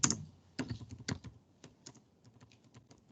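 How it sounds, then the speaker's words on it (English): Typing on a computer keyboard during an online lecture, a run of irregular clicky keystrokes with a few louder strikes near the start, close and alone with no talk. "So can you see my typing?"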